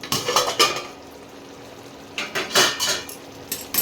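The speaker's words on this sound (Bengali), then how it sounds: "এবার ঢাকাটা খুলবো, খুলে দেখবো কি পরিস্থিতি" A metal lid lifted off a pot of country chicken simmering without oil, with a cluster of clattering metallic knocks and rattles at the start and again near the end, close and loud, no talk.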